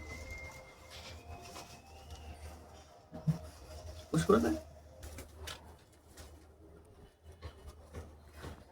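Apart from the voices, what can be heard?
pigeons cooing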